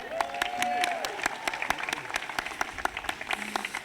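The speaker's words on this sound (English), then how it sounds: "Let's give a special applause to our kindergarten kids." A school commencement audience claps for kindergarten graduates, a scattered burst of hand claps rising briefly then thinning into uneven individual claps, with a voice over the start.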